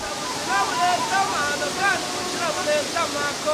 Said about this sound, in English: A memorable walk to the Muyanga waterfalls will take you a sensational sight of the falls plummeting at 33 meters high.